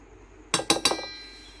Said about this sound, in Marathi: आणि आता हे ना मी थोडंसं पहिले चमच्याने हलवते